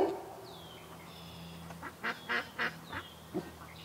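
Canada geese or ducks give a short series of honking quacks that sound faint and somewhat distant, with about five calls clustered together in a quiet outdoor setting.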